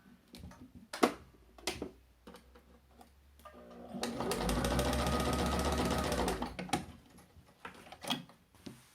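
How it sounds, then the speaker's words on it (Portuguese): A domestic sewing machine stitching with embroidery thread, one quiet steady burst of rapid stitching lasting a few seconds, framed by scattered clicks and handling taps of fabric and the machine. "Eu tô costurando com a linha de bordar, gente."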